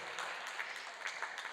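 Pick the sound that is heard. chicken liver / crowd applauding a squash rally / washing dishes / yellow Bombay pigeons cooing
crowd applauding a squash rally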